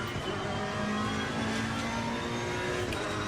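A Lamborghini race car in a racing video game, its engine droning steadily as it accelerates, a sustained whine gradually rising in pitch at moderate volume with no talking.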